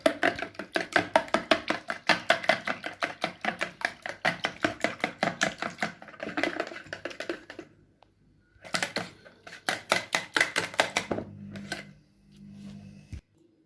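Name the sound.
mixing egg batter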